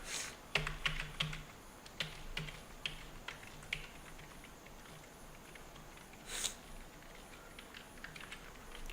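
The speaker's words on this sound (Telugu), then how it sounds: "ఇక్కడ సెకండ్ రోలో కూడా టైప్ చేస్తున్నా" Numbers typed into a spreadsheet on a computer keyboard, a close, quiet run of irregular key clicks with occasional louder taps and short pauses.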